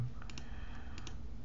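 Soft, quick computer mouse clicks from zooming in on an image in editing software, heard as a few faint paired clicks over quiet room hiss.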